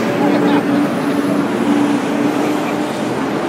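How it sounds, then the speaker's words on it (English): A truck rumbles past a roadside rally, a loud, broad low roar with a faint tonal whine that holds steady for a few seconds, close by and drowning other sound. "We'll wait till the truck is passed."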